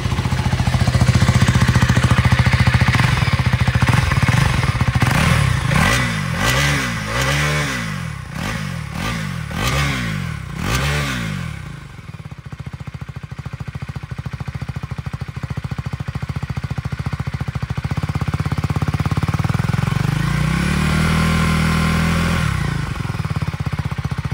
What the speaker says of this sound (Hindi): एक बार इसके एग्जॉस्ट साउंड के बारे में बात कर लेते हैं किस टाइप का साउंड देखने को मिलता है